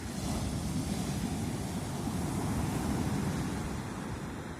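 Sea waves wash and churn against the shore in Turkey in February, a continuous broad rushing surf at moderate distance with no voices over it.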